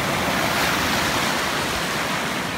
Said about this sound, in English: to a roaring river,